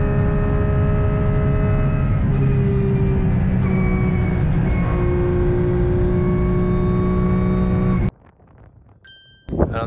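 A race car roars at high speed into turn 1 on a banked Australian circuit, a loud, sustained engine drone that cuts off abruptly near the end, followed by brief faint clatter.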